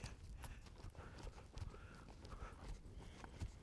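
Horse hooves clip-clopping in a steady rhythm as the horse moves from a canter into a trot during a cavaletti transition exercise, moderately close and continuous with some background noise.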